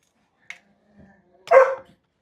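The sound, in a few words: dogs barking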